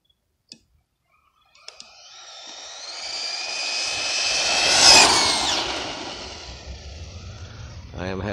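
A Wltoys 104001 RC car on a 3S battery makes a speed run on a short road stretch: a few clicks, then a high electric whine that rises to a loud peak as it passes close and fades slightly afterward.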